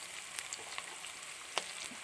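Chopped small shallots frying in a pan for a Kottayam-style Kuttanadan duck curry, a steady low sizzle with a few brief clicks of stirring, close and fairly quiet with no talk.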